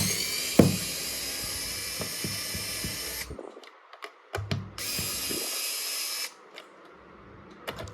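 A handheld 4V electric screwdriver, not fully charged, whirs in two sustained bursts of about three and two seconds, with a click and short pauses between them, close and fairly quiet.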